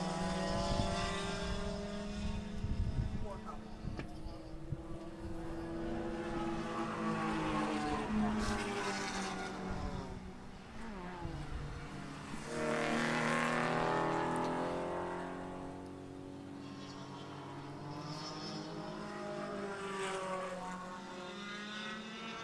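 Group 5 race cars pass steadily during a road-course race, engines droning with rising and falling pitch as several cars come through, loud and close, with a brief quieter gap midway.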